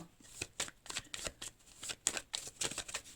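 Tarot cards being handled and cut, a run of quick, crisp papery flicks and snaps in a steady rhythm, close and fairly soft, with no voice over them.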